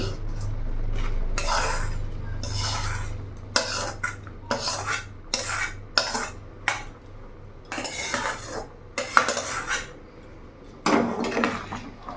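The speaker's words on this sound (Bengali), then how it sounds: "ভালো করে মিশিয়ে নেব।" Fried vegetables stirred into a pot of vegetable dal: a spoon scrapes and clinks against the pot in repeated short bursts with uneven pauses, close up, over a faint low hum.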